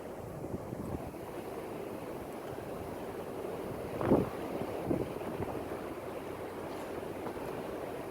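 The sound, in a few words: wind blowing outdoors while fishing from a boat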